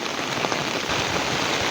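Heavy rain pours steadily and loudly during a typhoon over a flooded eggplant field, a dense, continuous hiss with no voices present.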